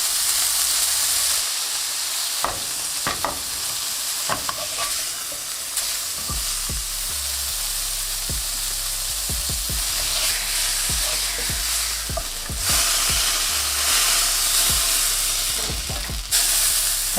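A beef burger patty frying in a pan makes a loud, steady hiss and sizzle, broken by several sharp spatula scrapes and taps against the pan.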